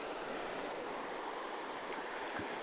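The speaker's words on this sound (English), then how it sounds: "And there's the creek." Lightning Creek flows nearby at a campsite, a soft, steady broadband rush of moving water with no voices over it.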